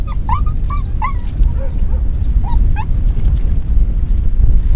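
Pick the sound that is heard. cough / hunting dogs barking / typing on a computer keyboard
hunting dogs barking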